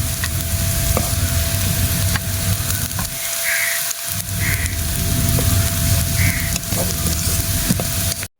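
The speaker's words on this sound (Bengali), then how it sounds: "আমার পেঁয়াজটা ভাজা হয়ে গেছে" Onions fry in oil in a pan for a Kolkata-style egg biryani, giving a continuous close crackling sizzle broken by stirring scrapes and a few clicks of a utensil, with a brief dip midway.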